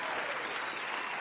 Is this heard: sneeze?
no